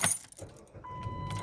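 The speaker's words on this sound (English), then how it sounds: "I gotta turn the car on." Keys jangle briefly and loudly up close as a car is started, followed by a quieter interior hum and a steady electronic tone from the car.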